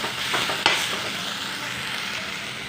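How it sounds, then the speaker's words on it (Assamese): Spices frying in a pan for a pork curry, a steady close sizzle with a brief scrape of stirring early on, continuing evenly with no talk. "আৰু এতিয়া মই মছলা ভাজি আছোঁ মাংসৰ কাৰণে।"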